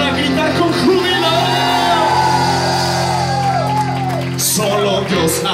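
A church congregation shouts and whoops with joy at a worship service, a loud sustained crowd roar with overlapping cheering voices throughout, swelling and then dropping briefly near the end before rising again.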